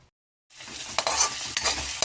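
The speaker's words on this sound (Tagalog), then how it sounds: "nagigisa na ako ng bawang sibuyas, kamatis, luya" Garlic, onion, tomato and ginger sauté in a hot pan, starting after a brief silence and settling into a steady close sizzle with a few louder stirring scrapes.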